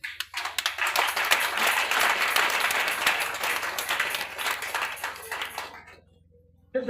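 A church congregation applauds and cheers during an evening service, sustained clapping with raised voices that swells, then cuts to near silence before a brief return at the end.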